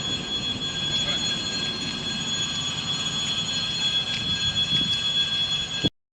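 An electric commuter train rumbles through Ozerki station in Saint Petersburg, a steady, moderately loud rolling roar with a thin sustained high squeal over it, then cutting off abruptly at the end.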